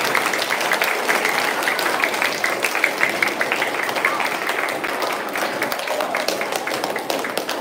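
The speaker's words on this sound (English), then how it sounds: "How about another round of applause?" A school crowd at a Flag Day ceremony applauds steadily, a dense patter of many hands clapping continuously at an even level without a break.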